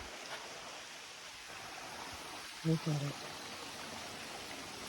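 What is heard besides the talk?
stream of crystal clear water flowing in the woods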